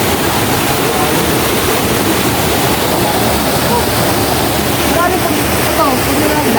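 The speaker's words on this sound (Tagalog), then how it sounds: "Ito yung ilog." Steady rushing of river water at a bathing spot along a road, a broad continuous wash that stays loud and even throughout with faint voices of people swimming in the background.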